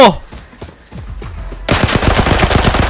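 A SCAR rifle fires in the shooter game Arena Breakout: scattered single shots at first, then a loud rapid automatic burst of closely spaced shots, with faint voices in the background.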